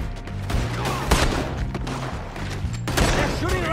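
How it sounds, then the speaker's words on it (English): Rapid bursts of gunfire, sharp cracks and booms from Red Dead Redemption 2, sounding mid-distance over a busy game soundscape, with speech under the shots. "They're shooting right at me!"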